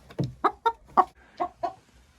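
Laying hens in a henhouse cluck sharply while squabbling over a nesting spot, about seven close, loud clucks in a quick, uneven run with no talking.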